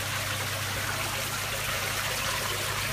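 Water pours steadily through a homemade shower built from a piggyback box into a fish tank, a continuous close splashing trickle with a low hum beneath.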